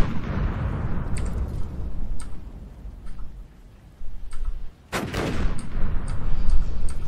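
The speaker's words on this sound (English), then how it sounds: "I think it's something firing at us" Gunfire and impact bursts from the video game Cataclysm strike the player: a steady roar of noise punctuated by sharp transient cracks, with a brief lull before a loud blast and continued rattling hits, no talk.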